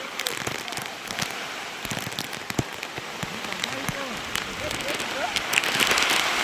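Heavy stormy rain pours outdoors in strong wind, a steady dense patter with scattered sharp crackling drops and gusts, fairly close and continuous throughout; faint voices sound in the background.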